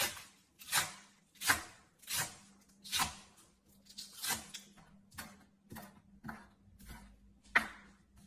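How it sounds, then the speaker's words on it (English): A knife chops spring onion on a cutting board in a home kitchen, about a dozen sharp, evenly spaced knocks close by against a low steady hum. "we're done chopping the spring onion"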